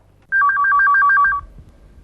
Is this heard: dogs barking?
no